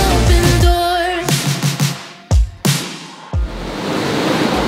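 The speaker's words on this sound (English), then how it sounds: "you can still hear the waves crashing" Ocean surf washes up onto a beach at Anilao, Batangas in the Philippines, heard as a loud, steady hiss of breaking waves with several short knocks and gaps in between.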